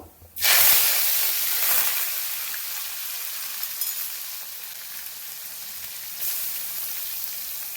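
Loud, steady sizzling of onions frying in hot oil, starting abruptly and hissing continuously with a brief flare near the end.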